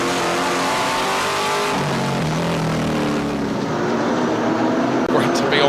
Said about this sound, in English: hear the note of that fantastic V8 engine roaring around this raceway